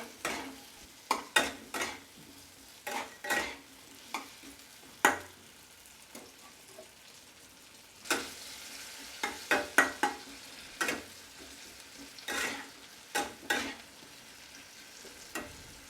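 Tomatoes salted in a pan fry with a steady low sizzle, while a utensil stirs them in a rhythm of sharp scraping clicks spread through the whole stretch, close and fairly quiet, with no voices.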